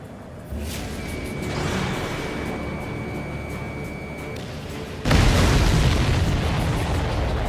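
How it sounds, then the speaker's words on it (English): A deep rumbling boom builds, then a second louder blast bursts in and roars on, an aircraft explosion in Ace Combat 7: Skies Unknown with sustained crackling noise. "Did you see that explosion? Looks like that's one of them down."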